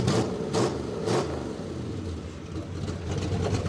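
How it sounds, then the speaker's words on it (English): Dodge Dart V8 with a four-speed, mufflers open, revving close by: a loud deep rumbling idle punctuated by three quick throttle blips in the first second or so, then a steady throaty burble. "It sounds pretty mean with the mufflers open like that."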